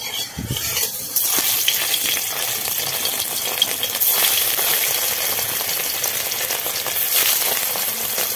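Paneer frying in mustard oil in a home kitchen, a steady close sizzle with crackling that runs unbroken for several seconds.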